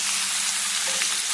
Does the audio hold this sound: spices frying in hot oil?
yes